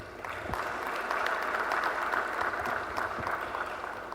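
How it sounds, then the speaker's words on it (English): An audience claps at a bankers' annual dinner in Accra, a steady wash of applause from a large seated crowd, moderately loud and sustained with a few sharper claps standing out. "We can clap for them."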